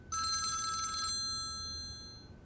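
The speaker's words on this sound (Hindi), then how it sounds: "लो, इसका फोन खुद ही आ गया।" A telephone bell rings in one clear, steady burst of about a second, bright and close, then fades into quiet room tone, with no voices.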